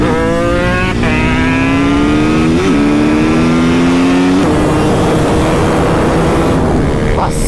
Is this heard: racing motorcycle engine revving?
yes